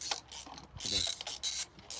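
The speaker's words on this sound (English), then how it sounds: "Ratchet power is best. Dual ratchet mode." Dual ratchet wrench clicking during a car service, quick bursts of close mechanical ratcheting clicks with brief pauses between strokes.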